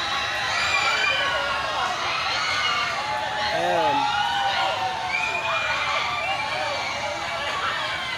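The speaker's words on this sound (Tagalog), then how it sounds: "sigawan na sila guys, sigawan na." Riders screaming on a thrill ride at Enchanted Kingdom theme park in Sta. Rosa, Laguna, a steady wash of distant shrieks and shouting under a man's brief remark.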